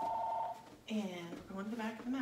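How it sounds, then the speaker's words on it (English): A house phone rings near the start, a steady electronic tone repeating for about half a second, then someone speaks over a quiet room during a home yoga session. "My house phone is ringing."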